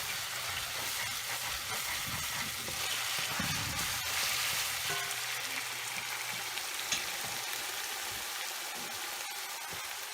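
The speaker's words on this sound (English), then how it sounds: "So I'm going to put in my rice now." Rice frying for fried rice in a pan gives a steady, moderate sizzle with crackling and occasional stirring scrapes, continuous and fairly close, with no voices.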